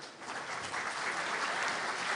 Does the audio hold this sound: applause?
yes